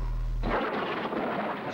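A rumbling thunderstorm from the horror film Evil Dead, shown on an old 1980s VHS release: a low hum gives way to a sudden loud, broad roll of thunder that rumbles on steadily without any voices.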